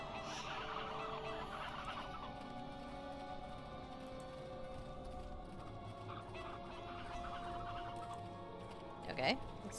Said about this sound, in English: Getting the chickens too.